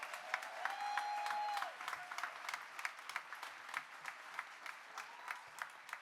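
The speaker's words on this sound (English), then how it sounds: "Another round of applause for Domingo and friends." Sustained audience applause for Domingo and friends at a panel event, steady dense clapping throughout with a brief whistle-like tone early on, filling the room at moderate distance.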